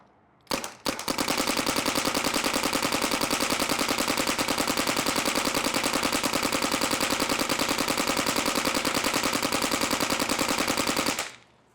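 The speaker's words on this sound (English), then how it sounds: "It's time to air up the CS3 Pro and shoot it." A Planet Eclipse CS3 Pro paintball marker in NXL 25 mode fires a long, unbroken stream of rapid, evenly spaced pops for about eleven seconds, loud and close, then cuts off.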